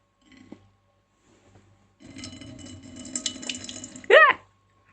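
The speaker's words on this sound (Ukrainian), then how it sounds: "Відкрити ці і вилити звідси воду" Water poured out of an instant noodle container through its lid flap, a steady splashing stream into a sink lasting about two seconds, ending in a sharp, loud clatter.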